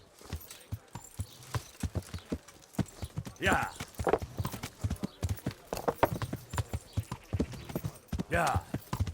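Horse hooves clip-clop in a steady rhythm in the medieval video game Kingdom Come: Deliverance, close and fairly loud, with occasional game voices and ambient noise mixed in.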